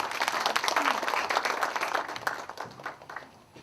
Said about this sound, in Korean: 최영태 교수님 큰 박수로 맞이해 주시기 바랍니다